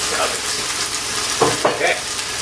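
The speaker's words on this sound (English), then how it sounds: "the reason why we're cooking the broccoli stems first is because they are tougher" Broccoli stems with garlic and ginger frying in a pan, a loud continuous sizzle with a few quick scraping stirs near the end.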